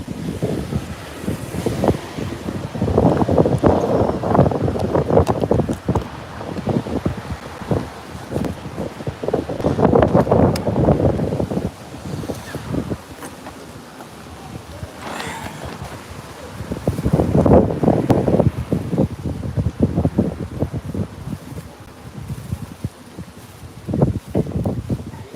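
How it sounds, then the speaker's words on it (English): Wind gusting outdoors in North London, blowing leaves around with heavy rumbling buffets against the microphone that swell and fade in waves, with rustling underneath. "And leaves blowing around."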